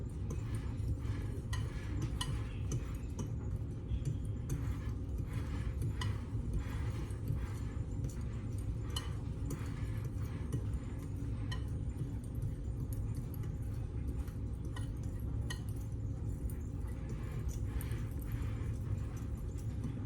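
Flour and cinnamon being combined in a bowl, a steady run of close, quick clinks and scrapes from the mixing, repeating rhythmically without a break and with no voices.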